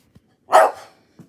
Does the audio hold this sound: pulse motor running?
no